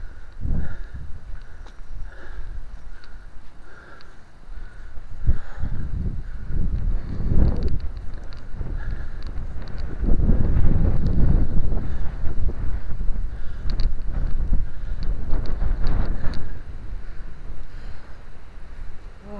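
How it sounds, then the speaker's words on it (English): Strong gusty winter wind in Haworth buffeting the microphone in heavy low rumbles that swell and fade, with faint footsteps on cobbled stone underneath. "Oh, very windy."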